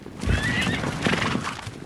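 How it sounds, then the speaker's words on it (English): Wild mustangs in the Wyoming badlands neigh loudly and close by, with a shrill whinny rising over faint hoof clip-clops. "in this empty quarter of the cowboy state is a thundering herd of mustangs"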